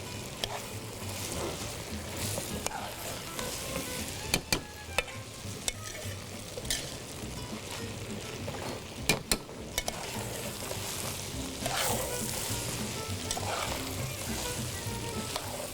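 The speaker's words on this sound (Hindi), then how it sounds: "सारी चीज़ों को मैं मिक्स कर दूँ अच्छी तरह" A spoon stirs pulao ingredients with raisins in a sizzling pot, a steady close frying hiss broken by sharp scraping knocks against the pot.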